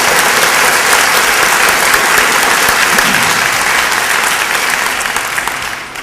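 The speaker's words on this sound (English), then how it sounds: "I think they all deserve one final round of applause" Sustained applause from an audience at a 2013 award ceremony, loud and steady throughout before easing slightly near the end, with no talking over it.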